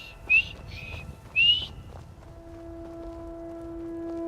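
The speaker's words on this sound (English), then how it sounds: "More whistling." Whistling in the video game Skyrim at a market near a shop, a few short bright whistled phrases in the first second and a half, then fading into a quiet ambient drone with soft footsteps-like background.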